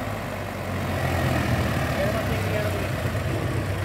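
A Mahindra 265 tractor engine idles steadily on wet, muddy farmland, a low continuous rumble with a faint mechanical drone, heard close and fairly loud throughout.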